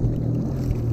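A jet ski's engine runs on open water, a steady low droning hum that holds evenly through the short stretch, close and fairly loud.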